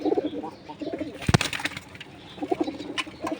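Soft, low pigeon coos repeat in short bursts, with a sharp clatter partway through and quiet background noise.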